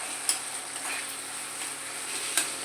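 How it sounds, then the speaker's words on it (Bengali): Mashed arum root frying with spices in hot oil for a curry, a steady close sizzle with a couple of soft scrapes as it is stirred in the pan. "মশলার সাথে প্রথমে একটু কষিয়ে নেব।"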